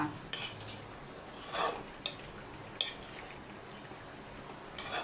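A spoon stirs meal maker rice in a metal pot, giving a few faint, scattered scrapes and clinks over a quiet background with no talking.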